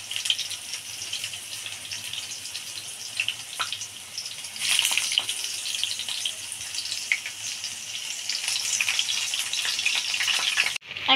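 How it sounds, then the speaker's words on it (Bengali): Snack sticks fry in hot oil with a dense, steady sizzle and crackle, and a few louder pops and bursts come through now and then. It runs continuously, close up and without any talking. "এখন এটাকে তেলে ফ্রাই করব"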